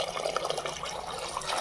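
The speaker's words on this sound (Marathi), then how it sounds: "3 वाट्या पाणी घातलेलं आहे" Water is poured from a bowl onto rice in a pressure cooker, making a short, faint, steady splashing fill that runs alone.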